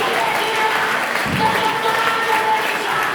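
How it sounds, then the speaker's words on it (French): Church congregation at a French-language sermon applauding and cheering to acclaim the Lord, a steady wash of clapping and crowd voices held at even loudness throughout. "Est-ce qu'on peut acclamer le Seigneur?"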